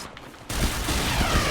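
Gunfire in a video shooter game where RPG rockets are being fired: a loud burst of dense, crackling shots kicks in abruptly after a brief quieter lead-in and rattles on steadily to the end.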